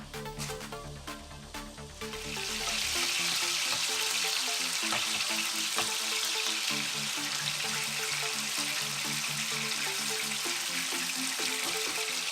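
Skinless longganisa sausage fries in an oiled skillet. Quieter clattering opens the clip, then a loud, even sizzle sets in and holds steady to the end.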